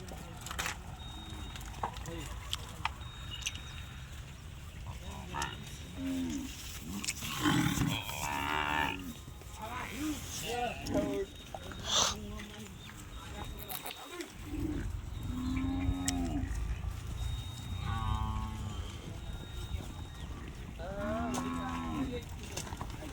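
Cattle moo several times, low drawn-out calls spread across the clip, while people talk nearby over a steady outdoor background.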